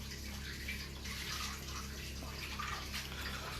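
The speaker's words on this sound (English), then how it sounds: "Let me just rinse my mitts." A kitchen tap runs steadily while hands are rinsed under it, a soft, even splashing hiss that carries on the whole time, with no talking.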